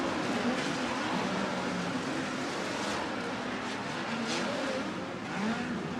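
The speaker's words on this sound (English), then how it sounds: "Off of turn number 4, tries to get the run. He'll be blocked, and Larson will streak away for the win." Dirt track sprint race cars roar past in a steady, loud engine drone, revving and accelerating off the final turn toward the finish, with engine whine rising and falling throughout.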